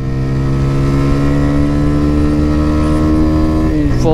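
TVS Raider 125 motorcycle accelerating hard through its gears during a top-speed run: a loud, steady, close engine drone with its pitch rising throughout, then a quick drop as a shift comes in at the end.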